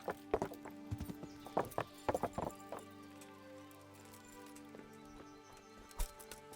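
Horse hooves clop in the video game Kingdom Come: Deliverance, a few quick bursts of hoofbeats early on and one more later, fairly faint over a low steady game background hum.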